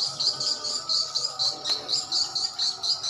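Swiftlets chirp continuously inside a swiftlet bird house, a steady pulsing chorus of high twittering calls with a faint background hum and no talking.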